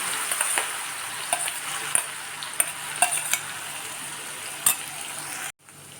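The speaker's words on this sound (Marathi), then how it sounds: "हिंग आणि आपण केलेला वाटण घालायचं आहे" Asafoetida and ground masala paste sauté in a hot pan while a spoon stirs them, giving a steady close sizzle broken by sharp scraping clicks, until the sound cuts off abruptly near the end.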